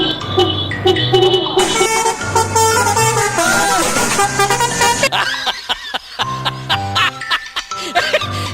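Basuri-style vehicle horn played in manual mode, sounding as loud melodic honking tones in short rising and falling phrases, continuous for several seconds and then broken into choppier bursts near the end.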